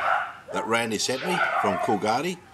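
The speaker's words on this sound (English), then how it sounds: "Sorry about the dogs." Dogs bark and yip repeatedly nearby while someone talks over them, the barks loud and close in quick bursts.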